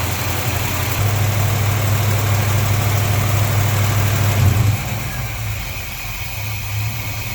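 A 1953 Chevy engine idling steadily with a low, even hum, close by, dropping slightly in speed and loudness near the end as the idle is brought down.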